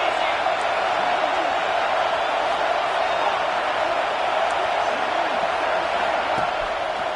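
Steady roar of a large stadium crowd at a college football game, a dense continuous wash of noise with no breaks, with commentary voices over it.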